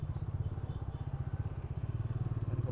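A motorcycle engine revs in place without riding off, a steady low throbbing pulse that rises slightly toward the end, fairly close and alone.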